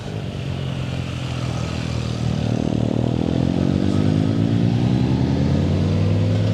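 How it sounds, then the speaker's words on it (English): Several motorcycles climbing a twisting mountain road in Slovakia, engines droning loud and steady with rising pitch as they accelerate past up the bends, continuous throughout with no talk. "Here comes some bikes coming up now to do the twisters."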